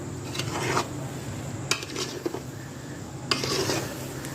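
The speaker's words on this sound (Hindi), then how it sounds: "अब इनको अच्छे से मिक्स कर लेते हैं आराम से ताकि हमारा" Rice, sugar and ghee gently stirred together in a cooking pot, a steady soft scraping and shuffling with a few sharper clinks of the spoon against the metal, close and moderately loud.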